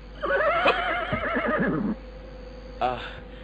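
A horse neighs loudly and close in a drama scene, a long shaky whinny followed by a shorter second call, with a voice overlapping.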